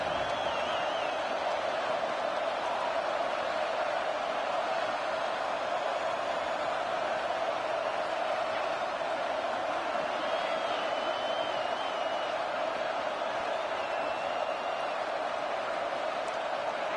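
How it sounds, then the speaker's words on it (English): Stadium crowd noise in NCAA College Football 26 during a BYU versus Georgia Tech game: a continuous, even roar of many voices that holds steady without distinct cheers or peaks. "crowd coming to life here, trying to help the defense get a stop"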